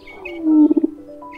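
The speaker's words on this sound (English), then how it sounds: "The male produces his courtship signal." Male treehopper's courtship vibration signal played back: a low rising hum that ends in three quick pulsing throbs, brief and close, with no voices.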